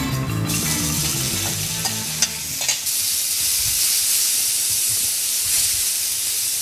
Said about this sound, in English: I've just got to put in some oil, just vegetable oil. You can see it's smoking. I put in my beef now.